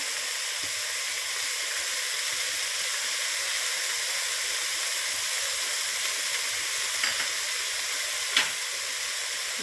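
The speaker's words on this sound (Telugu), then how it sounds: "ఫ్రెండ్స్ ఇగో కొత్తిమీర, పుదీనా కూడా వేస్తున్నా." Steady hot-oil sizzle as fresh coriander and mint leaves go into a hot pan for Hyderabadi veg biryani, a constant frying hiss with a couple of faint clinks near the end, no talking.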